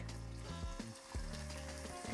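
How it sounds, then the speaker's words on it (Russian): Plantain slices frying in a pan of oil, a steady close sizzle running throughout with a few brief knocks or bumps mixed in. "Они жарятся буквально очень быстро, поэтому мы не отходим далеко."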